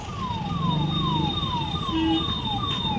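An ambulance siren wails in a repeating falling sweep, several cycles in a row, over steady traffic rumble and a sustained high tone, on a badly damaged, waterlogged road in Raniganj.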